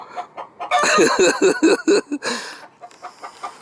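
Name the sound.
chicken clucking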